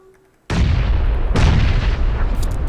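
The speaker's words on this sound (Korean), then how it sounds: "이쪽에 수류탄 사운드 뭐야 이거" A grenade blast in a third-person battle royale game hits suddenly as a loud, close boom, followed by a second heavy detonation and a long rumbling roar that fills the rest of the moment.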